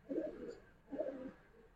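Two soft, low cooing phrases from a female fancy pigeon of a green-necked coloured breed, close by and quiet, each lasting under a second with a short pause between.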